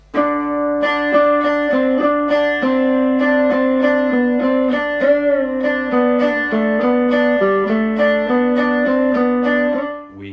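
Electric guitar plays a flowing, drone-backed Indian classical pattern with bending, sitar-like notes, continuous and close for about ten seconds.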